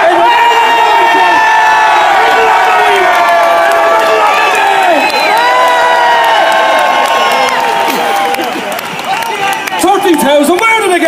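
A huge outdoor crowd at the Right2Water march in Dublin roars, cheers and whoops continuously and loudly, with shouting voices and someone talking over the din.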